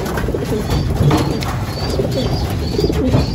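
Several racing pigeons coo close by in low, throaty, overlapping calls after being fed, a continuous murmur with soft rustling and no talking.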